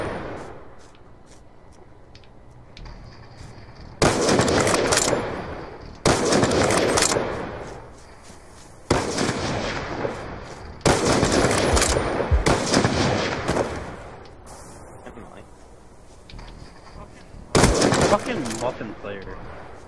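Heavy ballista rifle gunfire in a free-for-all match of a first-person shooter, several loud sharp bursts spaced a few seconds apart over game ambience, with a voice talking at times.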